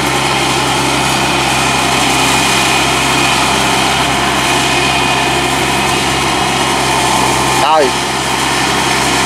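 A large homemade machine's engine runs steadily and loudly throughout, with a brief rising whine near the end; someone talks over it.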